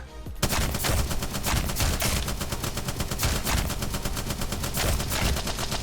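Sustained automatic gunfire from the video game Apex Legends hammers at a target in a fast, even rhythm, loud and close, running almost without a break after a brief quiet start.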